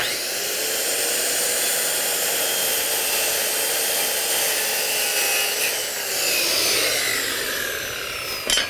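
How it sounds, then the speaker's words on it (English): A circular saw with a 60-tooth carbide-tipped Diablo blade cuts through Brazilian hardwood, a loud, close, steady whining grind that shifts in pitch partway through, then spins down with a short clatter at the end. "This is the Brazilian hardwood, and we're just gonna cut it with our square and our saw here."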